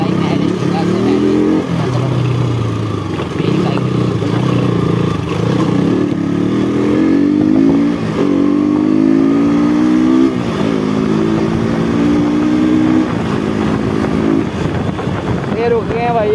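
A KTM motorcycle engine revs and shifts through repeated rising pulls during a ride on an Indian road, loud and close with wind buffeting, while riders talk throughout.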